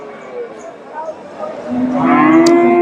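A cow moos loudly and close by at a cattle market in Bogura, Bangladesh, a long low drawn-out call that swells in the second half over quiet background.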